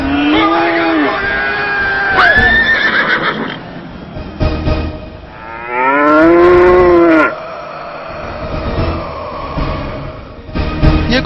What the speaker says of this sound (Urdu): یہ گدھے اور گائے کہاں سے آئے؟